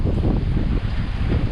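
Wind gusts of around 18 to 19 knots buffet a sailboat under genoa and mainsail, a steady loud rushing roar with low-end rumble throughout.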